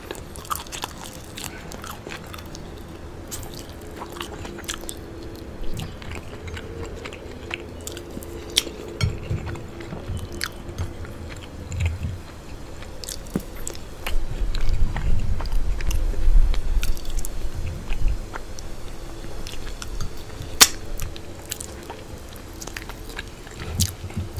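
Close, steady chewing and biting on pumpkin pasta and chicken wings, with crunchy bites, soft wet mastication and occasional light clinks of cutlery over about twenty-five seconds, no talking.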